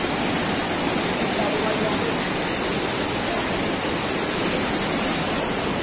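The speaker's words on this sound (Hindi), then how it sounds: "अभी बहुत ही ज्यादा पानी है यहाँ पे" Heavy water rushes steadily near a bridge, a dense, loud, continuous roar of flowing water with no letup and no clear voices.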